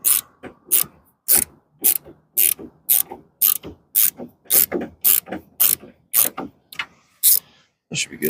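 A ratchet wrench loosens the bolts on a window actuator of a 2000 Chevrolet Silverado, giving a run of sharp, close ratcheting clicks in quick repeated bursts, about two per second, with brief quiet gaps between strokes.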